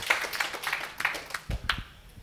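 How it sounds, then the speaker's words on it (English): An audience claps for two speakers at an education talk, a brief scattered round of hand claps heard at moderate distance with faint voices underneath. "Yes, big round of applause"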